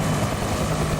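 A Huey helicopter in a combat flight game drones steadily with a dense, continuous rotor and engine rumble, close and moderately loud throughout.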